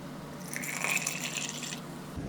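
Water pours steadily into a ration pouch with a gurgling, filling sound for about a second, then trails off to quiet.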